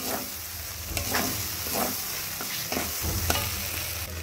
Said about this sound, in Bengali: আর এই কষানো আলুর মধ্যেই দিয়ে দিচ্ছি চারমগজ আর কাজু বাদামের পেস্টটা। এই পেস্টটা দিয়েও খুব ভালো করে কষাবো।